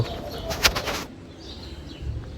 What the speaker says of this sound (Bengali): এই যে পাখির কিচিরমিচির শব্দ।